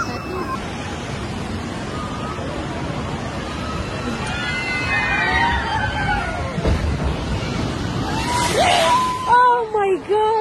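Water ride at La Ronde amusement park drenching riders, a broad rushing splash and spray building loudly over crowd noise, with excited voices and shouts rising at the end.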